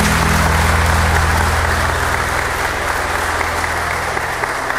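Wedding guests at a civil ceremony clap together in loud, dense, sustained applause that fills the room, tapering slightly toward the end.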